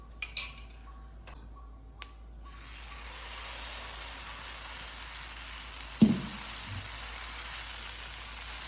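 Oil sizzles on a hot pan for urad-maida dosa, a steady broadband hiss that rises after a couple of seconds and holds, with a faint clink near the end and no talking.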